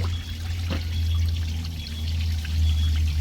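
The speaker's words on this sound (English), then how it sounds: "lot of coolant will pour out of it" Engine coolant pours from a removed EGR cooler on a 6.7L Powerstroke diesel into a bucket below, a steady, close liquid stream with a continuous low rush throughout.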